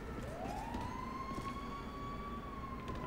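A fire truck siren in the LSPDFR police game rises into a steady, sustained wail that holds for about three seconds at a close, loud level, with no talk over it.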